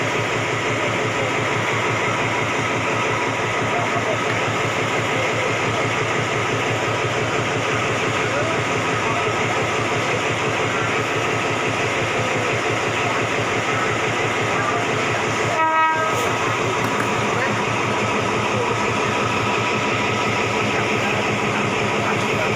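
Trains stand at Chong Khae station on the Thai railway as rapid train 112 stops and ordinary train 201 waits to pass, a loud steady diesel rumble filling the scene, with one short horn blast near the end.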